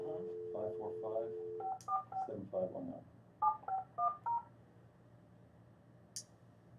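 Touch-tone keypad beeps from a telephone being dialed, a quick run of short paired tones sounding clearly between stretches of speech over the line, with a tonal hum at the start.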